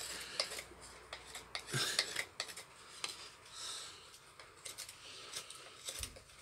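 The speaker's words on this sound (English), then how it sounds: "cutting downwards, and cutting down, rotating the knife." A knife carves the back of a wooden spoon bowl in short, close scraping and shaving strokes, soft and repeated in an uneven rhythm with small crisp cuts.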